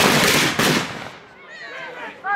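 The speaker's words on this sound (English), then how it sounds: "The problem with the muskets is they're smoothbore." Smoothbore muskets firing at a castle battle reenactment, a loud cracking volley at close range that fades into a long echoing tail across the field.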